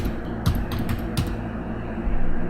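Keystrokes on a computer keyboard, a few scattered taps and short bursts of clicks over steady background hiss, close and fairly quiet.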